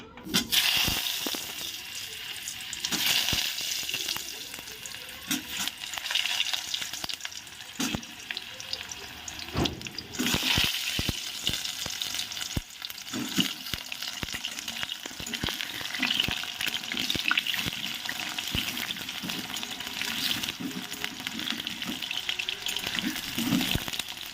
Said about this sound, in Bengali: তেলটা তো গরম করে ফেলেছি এবার আলুটাকে ভেজে নিই